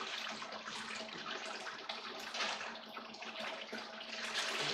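Water overflowing through a gold sluice, a continuous dense rushing and splashing flow, fairly quiet and steady throughout with no talking.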